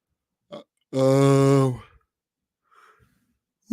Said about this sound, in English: can't stop yawning